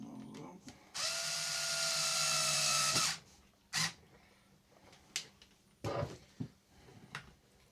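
A power tool drives screws into a Tamiya Hornet Evo model kit in one steady whirring burst of about two seconds, followed by a few short clicks and handling knocks.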